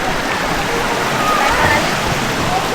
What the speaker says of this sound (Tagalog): Dito kami sa ilog.